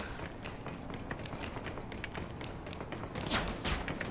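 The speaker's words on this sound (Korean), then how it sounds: "팬텀 발소리도 같이 있어" Footsteps of the Phantom character in the video game Farlight 84, a quick series of soft running thumps and taps under low game ambience, with a sharper sound near the end.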